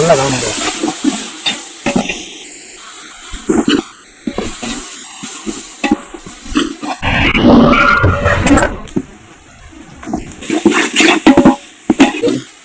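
Large batch of garlic and ginger sautéing in oil for mutton biryani, a loud, close sizzle with stirring scrapes and splashes, with a person talking over it.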